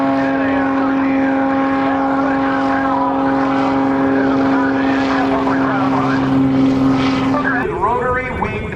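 Propeller engine drone of a Bulldog aircraft flying at an airshow at NAS Oceana, a steady loud tone with a held pitch that shifts near the end, with voices over it.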